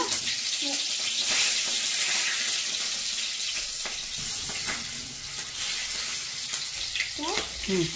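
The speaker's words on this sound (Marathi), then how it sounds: "आता याच्यात हिरवी मिरची टाक." Green chili sizzling in hot oil with cumin for potato bhaji, a steady frying hiss with faint stirring clinks, while voices talk nearby.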